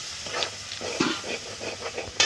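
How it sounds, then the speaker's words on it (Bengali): Spice paste of fried tomato, turmeric, chili, coriander powder and ground sesame-poppy paste is stirred and fried in a pan, giving a soft sizzle under irregular scraping strokes and a few sharper utensil knocks. "মশলাটা ভালো করে কষিয়ে নেব।"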